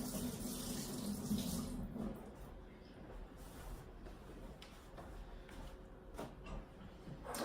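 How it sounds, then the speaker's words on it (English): Running tap water splashes into a sink as hands are washed in a kitchen, a faint steady gush that cuts off partway, followed by light clinks and handling noises. "Wash my hands a little."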